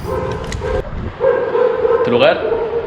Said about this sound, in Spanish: Se escuchan unos perros afuera.